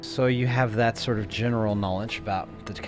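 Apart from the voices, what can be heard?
None of the usual background noises is heard.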